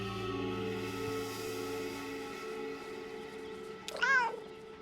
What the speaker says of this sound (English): alert meow